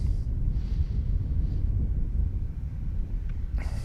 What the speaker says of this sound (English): every once in a while the wind really starts kicking up around here